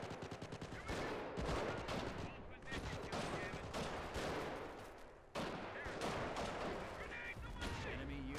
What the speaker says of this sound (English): It sounded like they had M1 Garands.